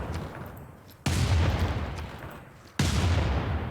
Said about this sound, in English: we're going to take some more shots with our bombards.